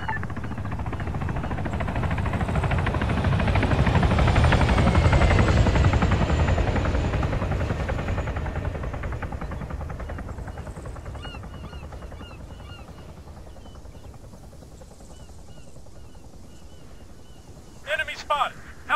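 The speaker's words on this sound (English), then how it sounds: "Enemy spotted. Helicopter. 700 meters. North." Helicopter rotors from the Arma 3 game on Stratis swell to a loud throbbing peak and then fade slowly into the distance, followed by a few short sharp clicks at the end.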